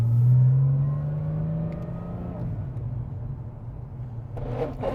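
A rare limited-edition classic Porsche 911 engine settles from a brief rev into a steady, low, rumbling idle, heard up close for a few seconds with little else around it.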